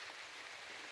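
Rain falls steadily on a rural farm during a corn harvest, a soft continuous hiss of drops with no voices.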